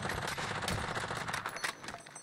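Rapid automatic gunfire from the video game Warzone, a dense continuous burst of shots with sharp repeated cracks running through the whole stretch, loud and close.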